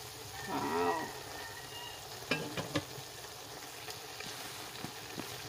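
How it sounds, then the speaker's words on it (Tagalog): Chicken sautéing in a pan for sinigang: a faint, steady sizzle with a few sharp clicks and scrapes of stirring, quiet and close, with a brief voice early on. "I-check natin yung kinikisa natin."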